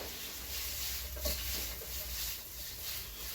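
Pork slices browning in a pan for an apple stir-fry make a soft, low sizzle with a single light clink, quiet and continuous.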